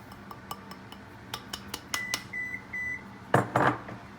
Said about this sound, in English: That was the oven preheating. I've got it preheating to 350.